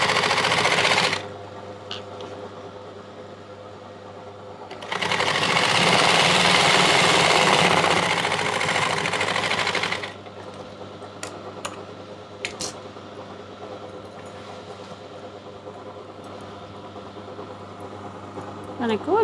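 A sewing machine stitches a ladies' pant pocket in two loud, continuous runs of fast mechanical whirring, each several seconds long, separated by a low steady hum.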